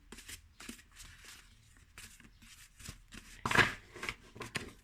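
Soft papery swishes of tarot cards being shuffled up close, in short irregular strokes with one louder riffle near the middle.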